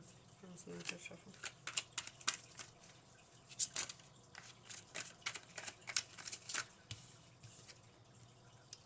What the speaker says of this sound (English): No, that's another shuffle.